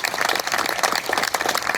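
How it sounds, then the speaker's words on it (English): Ceremony audience at a high school groundbreaking giving a loud, dense round of applause, many hands clapping continuously and close by with no talk over it. "Can we give a huge round of applause to Rob Johns and the Alumni Association"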